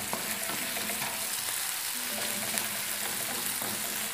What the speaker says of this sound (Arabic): كتشحر ليا البصله مع الكفته، كتشحر مزيان